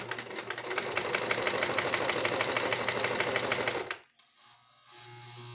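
A sewing machine runs a continuous straight stitch along a face mask for about four seconds, a dense rapid chatter that stops abruptly, leaving a low hum.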